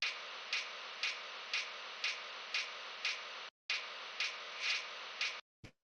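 A cymbal sample pitched far down into a low, droning percussive wash, repeating in steady pulses about twice a second, with a short gap before a final brief hit; no voices.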